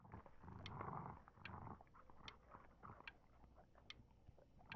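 A creature in the horror game Before Your Eyes growls low and rough, with wet chewing-like grunts in several bursts, loud at first and then fading, with no talk over it.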